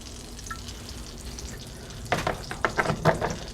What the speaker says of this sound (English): I'm going to put a tablespoon or 2 of butter in there, and some of my cooking olive oil